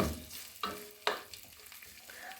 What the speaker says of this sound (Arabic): هسه راح نذب اللحم مع الزيت هنايا، راح نحمسه شوية